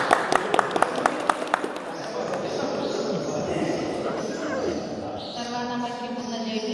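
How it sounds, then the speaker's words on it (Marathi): A crowd claps in a dense, sustained round of applause at a Dhamma trip gathering in Nanded, opening with a few sharp, separate claps that quickly swell into steady clapping, with voices mixed in. "टाळ्या."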